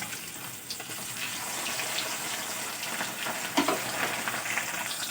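Rohu fish frying in hot mustard oil in a wok, with a constant close hiss and crackle of sizzling and a brief scrape as the pieces are turned.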